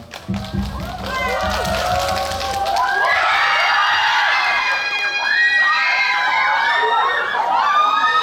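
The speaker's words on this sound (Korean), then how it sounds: "큰 박수로 이 자리로 모시겠습니다" An audience at a cinema stage greeting for the film Peninsula claps and cheers as the actors and director arrive, a loud, sustained crowd roar with excited shouts throughout, and talk over the top.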